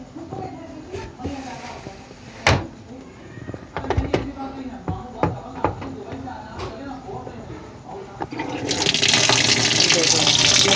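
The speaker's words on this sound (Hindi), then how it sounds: "देखो, ये पानी गिर रहा है ना" Tap water runs through a pipe into a washing machine, a flowing splash with scattered knocks and handling sounds, then swelling into a loud steady gush near the end.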